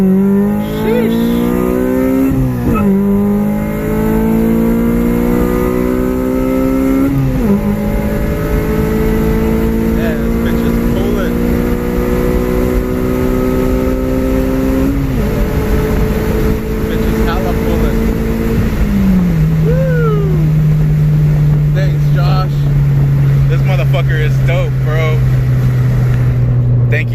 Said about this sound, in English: So we're gonna jump on the freeway right now, and we'll do a first gear pull.